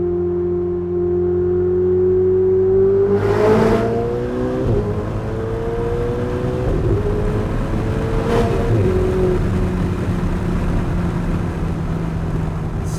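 A Ferrari engine revs up loud and close, pitch climbing then dropping through quick gear shifts, repeating the rise and shift before settling into a steady cruising drone.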